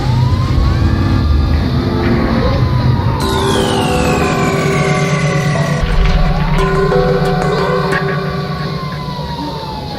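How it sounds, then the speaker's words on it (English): Loud Los Santos Fire truck siren in GTA V, wailing in rising and falling sweeps close by, with a sharper higher tone cutting in partway through and a steady engine rumble underneath. "Probably should turn my siren off."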